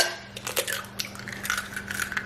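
Eggs cracked and dropped into a bowl of keto pancake batter, with a few quick taps and clinks and a soft splat close by, short and without speech.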